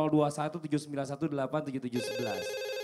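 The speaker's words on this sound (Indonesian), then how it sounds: "Oke sudah ada teleponnya masuk." A telephone ringing with an incoming call on an Islamic TV talk show: a steady electronic ring starts after a host speaks over the studio sound, then carries on loud and close to the end.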